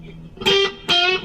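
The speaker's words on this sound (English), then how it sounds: "For the overdrive, I'm using my Hermida Audio Overdrive pedal, but any distortion pedal will work for this." Electric guitar played through a Hermida Audio overdrive pedal, giving a few sustained, gritty distorted notes with rich overtones, loud and up front with no voices.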